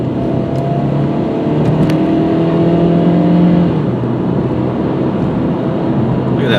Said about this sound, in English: I'll shut up as I accelerate and let you guys listen again.